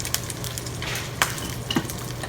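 An egg fries in a pan for huevos rancheros, a steady close sizzle with a couple of sharp clinks of a utensil or lid against the pan.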